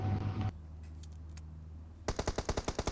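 Video game gunfire in PUBG Mobile, a rapid burst of about eight sharp automatic shots in even rhythm, crisp and close, following a brief rumble and a quieter stretch.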